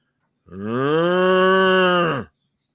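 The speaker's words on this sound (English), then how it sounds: "Sounds like a cow." A single cow gives one long, loud, close moo of about two seconds, rising in and trailing off, with no other sound around it.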